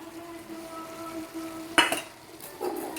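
Spice paste mixed in water is poured into frying chicken for a chicken stew, setting off a sudden loud hiss that quickly fades, then a second swell of sizzling near the end, all close by.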